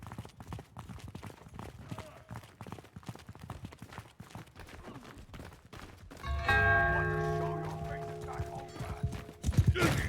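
A horse gallops in a video game, its clip-clop hoofbeats running rhythmically through the first stretch under a player's talk, before louder tonal game sounds take over.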